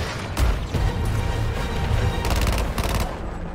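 Gunfire in Suicide Squad: Kill the Justice League: bursts of rapid shots crackle and bang over a steady bed of low rumbling action noise, with a dense volley near the end.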